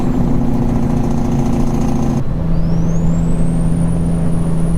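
Kenworth T660 truck in American Truck Simulator, a loud steady low diesel engine drone with a faint high whine, and a rising tone sweeping upward after a shift in the engine note.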